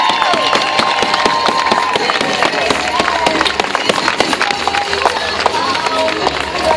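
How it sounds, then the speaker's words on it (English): Crowd cheering and clapping for passing athletes, including a runner from Syria, a dense continuous roar with sharp claps and whoops over a steady background, with an announcer's voice mixed in. "Come on, everybody, let's cheer them all around the corner."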